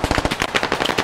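Rapid video game gunfire rattles off in quick, closely spaced bursts, loud and near, with no voices over it.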